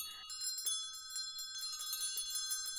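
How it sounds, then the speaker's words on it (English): Several bells ring together in a bright, sustained clang, their tones overlapping continuously at a steady, fairly loud level. "and so did every bell in the house"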